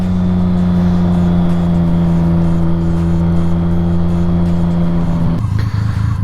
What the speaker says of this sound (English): how come the bike sounds like it's supercharged? And I try to explain to him that it's the fuel pump.